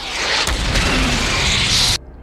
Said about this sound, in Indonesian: Dan tak berapa lama mobilnya meledak.